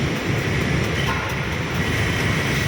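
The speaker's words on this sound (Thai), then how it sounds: "นี่ก็เป็น สถานีรถ ไฟฟ้า BTS พร้อมพงนะครับ" BTS Skytrain train at Phrom Phong station in Bangkok, a steady rumbling roar of rolling rail cars with faint clatter, heard nearby and continuous without speech.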